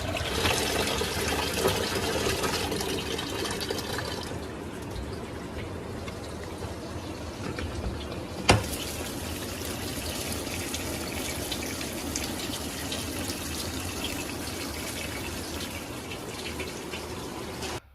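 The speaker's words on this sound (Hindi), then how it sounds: "आप यहाँ देख सकते हैं गर्म पानी आना शुरू हो गया है।" Hot water gushing steadily into a Whirlpool 9.5 kg ACE-XL semi-automatic washing machine with built-in heater, a continuous close pour that changes briefly partway through, with no talking.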